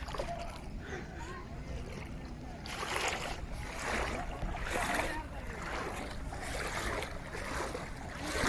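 A boat motors through a flooded village in Comilla, Bangladesh, with water rushing and splashing against the hull in surging waves, and voices talking over the steady churn.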